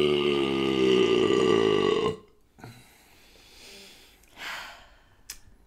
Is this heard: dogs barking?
no